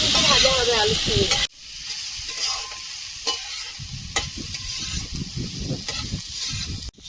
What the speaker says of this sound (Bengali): আলুর সঙ্গে সুন্দর করে ভেজে নেব